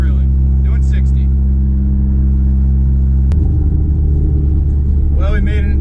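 A 25-year-old project truck cruises in fifth gear, its engine a loud steady low drone inside the cab that shifts in tone midway, with voices speaking over it.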